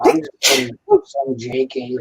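One loud, explosive sneeze bursts out close by, surrounded by casual talk just before and after it.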